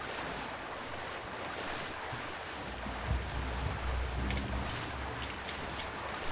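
Water sloshing and lapping while a character swims in the video game Two Worlds 2, a steady wash of wavelike noise with a slightly heavier churn midway, no voices.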